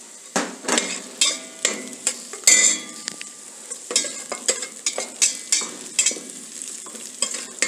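Mirepoix of onion, celery, leek and crushed garlic frying until lightly browned, a soft sizzle under a rhythmic series of sharp spoon-against-pan scrapes and taps from repeated stirring, close and steady.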